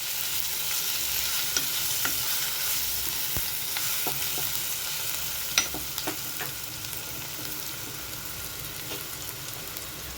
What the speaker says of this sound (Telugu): ఇదంతా మంచిగా మిక్స్ అయ్యేలా కలుపుకోవాలి